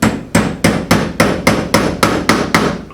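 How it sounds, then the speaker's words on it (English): Ten evenly spaced sharp metallic hammer strikes on a punch driven into a broken bolt, close and loud, each with a short ringing tail, no voices. "at first it wasn't actually bottoming out, so you could hear an impact sound"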